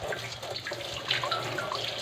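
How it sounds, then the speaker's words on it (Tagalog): Water from a hillside source runs steadily into drums, a continuous hissing, splashing flow that stays close and even throughout with no talking. "yung pinanggalingan ng tubig na ito so pupunuin natin ngayon ang dalawang drum"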